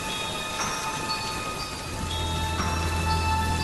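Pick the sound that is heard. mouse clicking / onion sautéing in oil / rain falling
rain falling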